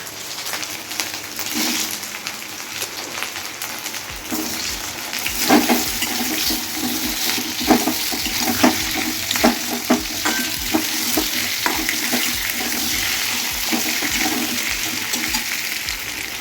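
Potatoes fry in a pan on a gas stove, a steady close sizzle with scattered stirring scrapes and clatters over roughly sixteen seconds, with no talking.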